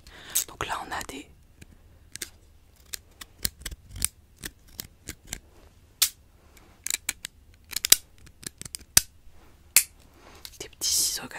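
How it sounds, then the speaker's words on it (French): Small craft scissors for cutting paper into different shapes snip and click in sharp, irregular bursts, close and crisp, with soft whispering between the cuts. "petits ciseaux comme ça"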